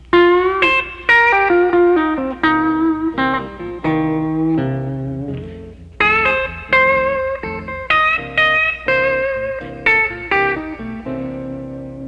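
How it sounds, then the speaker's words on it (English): Electric guitar playing bluesy single-note licks with bends, backed by a steady rhythm section; loud and close, phrases in repeated bursts. "a couple of licks that you can play on the first 4 bars of a 12-bar blues progression"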